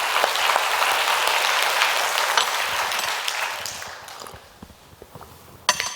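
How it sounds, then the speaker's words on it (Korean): A church congregation applauds during a Sunday worship service, a dense sustained wash of clapping that gradually thins and fades toward the end, with one sharp final clap. "격려의 박수 한번 해주시기 바랍니다"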